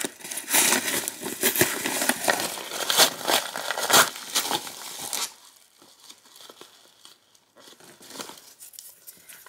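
A newly received parcel is torn and opened by hand, with close, loud crinkling and ripping of paper and packaging for several seconds, then quieter occasional rustling.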